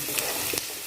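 Onions frying in hot mustard oil give a steady, bright sizzle, close and continuous for a brief moment, with faint stirring clicks.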